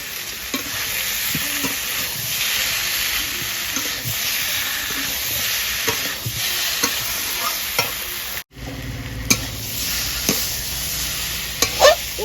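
Elephant foot yam stirred and sautéed in a pan, steady close sizzling with repeated scraping and clacking of the spoon, a brief pause midway before the frying resumes.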